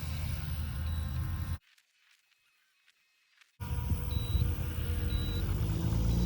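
Short, thin high-pitched low-battery warning beeps from a Haiboxing Surge X03 RC car on a 2S LiPo sound intermittently over a steady motor whir that cuts out briefly in the middle.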